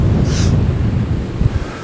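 Strong seaside wind at Maryport roars steadily and buffets the microphone in a loud low rumble, with no voices.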